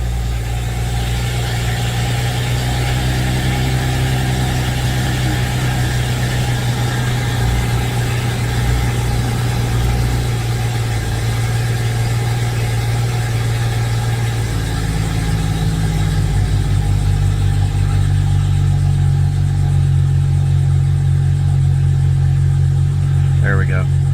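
A car engine runs at idle, a steady low drone held for the whole stretch, loud and close, with its pitch shifting slightly partway through.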